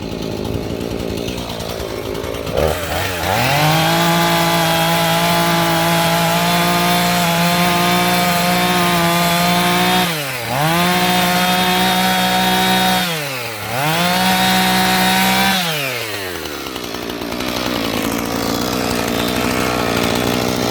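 A chainsaw roars at high revs as it cuts through wood, dipping in pitch twice as the blade bogs down, then idling off.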